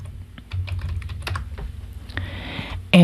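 Quick keystrokes on a computer keyboard, clustered in short uneven bursts at close range, with a sharper louder knock right at the end and no voices.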